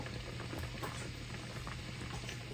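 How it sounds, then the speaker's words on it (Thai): Red curry soup with jackfruit and pork bones simmering down in a pot, a steady low bubbling and gurgling boil that continues evenly throughout with no talking. "เราอยากให้น้ำซุปมันยุบลงไป มันจะได้เข้มข้น"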